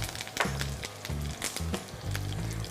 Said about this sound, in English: When the oil is hot, I'm going to add in some mustard, few curry leaves